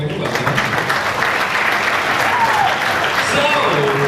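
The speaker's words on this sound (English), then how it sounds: "Big round of applause." A cabaret audience at the Sousse Palace in Tunisia applauds a prize winner with dense, loud, sustained clapping from start to finish, with a voice faintly under it.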